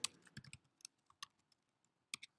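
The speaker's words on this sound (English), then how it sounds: "I want to be able to type in here" Typing on a computer keyboard during a React coding demo at a meetup, giving sparse, quiet, irregular key clicks in small clusters separated by silent gaps.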